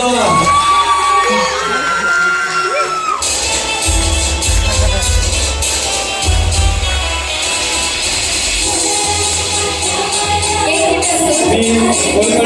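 Audience cheering and whooping at a Women's Day 'Home Minister – Khel Paithanicha' prize event held by Satara Municipal Council. Loud, dense crowd noise swells after a few seconds and stays up, with voices mixed in.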